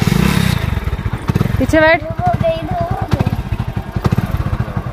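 Motorcycle engine idling and revving with a rough, pulsing throb as children climb on for the morning school ride, steady and close, with people talking and a brief high whine over it.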